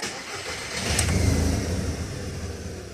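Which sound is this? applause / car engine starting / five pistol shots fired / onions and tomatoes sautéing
car engine starting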